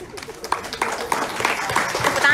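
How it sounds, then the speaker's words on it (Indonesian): A crowd applauds in a short burst of steady clapping at an event with a king cobra and python show, with voices mixed in underneath. "Tepuk tangan dah yang habis dah."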